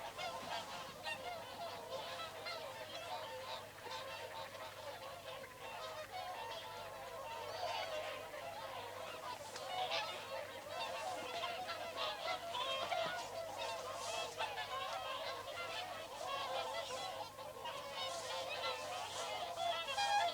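Large flock of wild whooper swans and geese calling continuously, a dense overlapping chorus of honks and bugling that stays steady and fairly loud throughout, with no talking.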